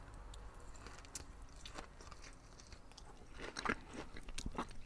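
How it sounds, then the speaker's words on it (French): Tender, melting cooked meat is bitten and chewed up close, with soft wet squishes and faint crunchy bites in an irregular rhythm, quiet and intimate, with no talking. "Regardez comment je vais la croquer."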